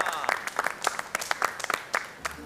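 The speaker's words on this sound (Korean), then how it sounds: "자, 우리 박수!" A studio audience on a Korean variety game show bursts into applause, a dense run of claps that holds steady and fairly loud for a couple of seconds, with voices mixed in.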